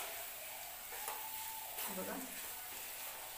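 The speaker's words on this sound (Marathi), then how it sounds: "गॅस थोडासा फास्ट करते मी आणि छानसे बटाटे परतून घेऊया आपण" Potatoes sizzle and are stirred in a hot pan over raised gas heat for a puri bhaji potato dish, a steady frying hiss with spoon scrapes, briefly under a short spoken word.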